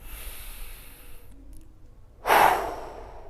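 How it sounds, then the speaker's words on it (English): Deep belly breathing during a home golf fitness workout comes as a long, soft exhale followed by a louder, close, breathy intake or sigh near the end. "We're breathing deep from within the belly."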